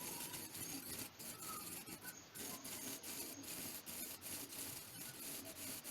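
Carbide lathe tools cutting a segmented maple and walnut bowl: a continuous close, loud rasping hiss of the turning cut with brief rhythmic dropouts, no talking.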